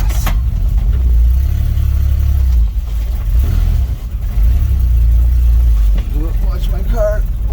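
A Dodge D100 pickup's engine drones loudly and steadily while driving, with low rumbling throughout and a few brief dips in revs; a voice speaks near the end.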